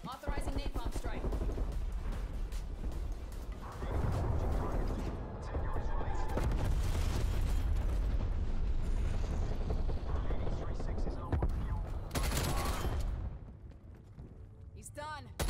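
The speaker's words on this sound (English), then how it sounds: "Authorizing napalm strike." Napalm strike explosions in Call of Duty: Black Ops, a loud rolling roar of fiery blasts and rumble that fills the clip, swells several times and tails off near the end, with game voices talking over it.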